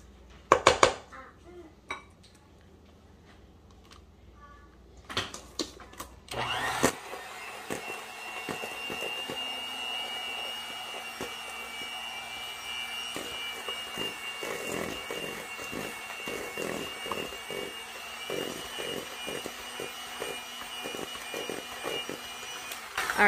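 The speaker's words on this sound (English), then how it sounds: "Now I'm gonna go ahead and mix this with my hand mixer until it's incorporated." An electric hand mixer beats eggs and yolks into cake batter in a bowl for marble cake, a steady close whirring hum with beater clatter against the bowl, after some clinking of dishes at the start.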